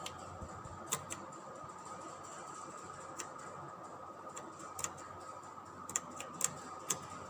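Keyboard typing while a traffic light control program is entered, heard as sparse, irregular light key taps scattered over a faint steady room hum, fairly quiet with no speech.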